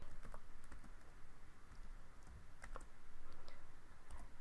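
Someone types code on a computer keyboard, steady soft key clicks and taps in an irregular run, close and fairly quiet, with no talking.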